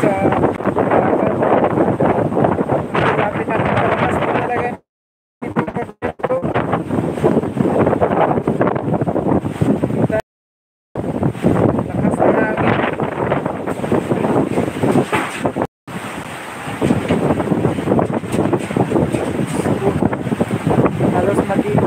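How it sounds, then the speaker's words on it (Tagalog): Strong typhoon wind during Typhoon Odette buffets the microphone in loud, continuous roaring gusts, broken by a few abrupt silent gaps. "sobrang lakas na ng hangin mo din"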